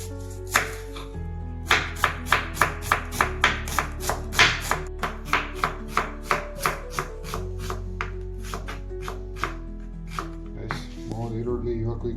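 Onions are chopped with a knife on a board in a run of about twenty crisp, evenly spaced knife strikes, close and clear, which thin out and stop toward the end.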